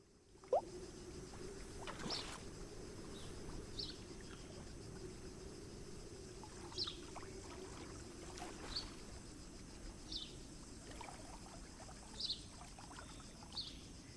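Water laps and splashes around a small bass fishing boat in a video game, with a low continuous engine rumble and occasional soft knocks, faint and steady throughout.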